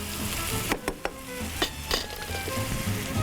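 Chopped onions sizzle and fry in a pan, a steady close crackle with a few soft clinks and stirring scrapes, no talking.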